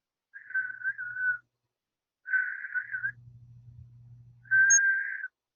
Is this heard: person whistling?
yes